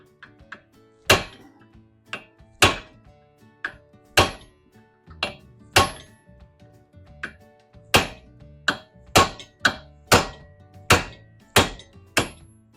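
A hammer strikes a drilled axle bearing on a Ford 9-inch axle again and again, sharp loud metal blows at an uneven, steady pace, close up, with no talking.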